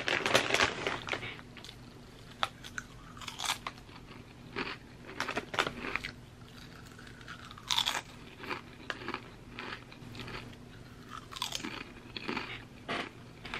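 Herr's Gameday Cheesy Pizza potato chips crunched and chewed close to the mic, with repeated crisp bites followed by steady mastication and brief pauses, loud and up close with no talking.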